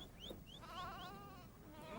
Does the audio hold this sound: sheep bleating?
yes